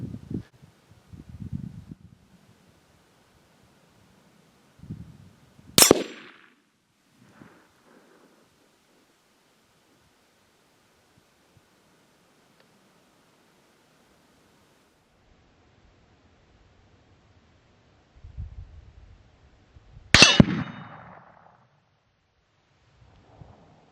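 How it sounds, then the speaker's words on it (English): A 17 Hornet rifle firing 25 grain Hornady hollow points at a steel spinner target 100 yards away: two sharp, loud cracks about fourteen seconds apart, each following faint low rumbles and handling noise, in an otherwise quiet outdoor setting. "We'll be shooting this steel spinner target from a distance of 100 yards with a 17 Hornet 25 grain hollow point by Hornady."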